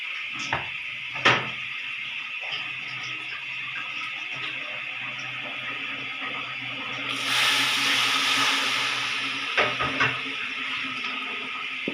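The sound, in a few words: water added to a pan of cooking chicken and potatoes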